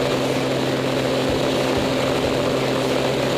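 A Pitts S1S aerobatic biplane, an advanced aerobatic trainer at a warbirds air show, drones steadily with a loud, continuous propeller and engine hum.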